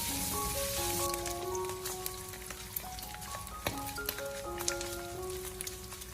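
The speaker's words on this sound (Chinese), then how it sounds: "油热之后，将切好的五花肉放进锅中，用小火给它翻炒一小会" Sliced pork belly stir-fries in a wok of hot oil over low heat, giving a soft steady sizzle with occasional crackles beneath background music.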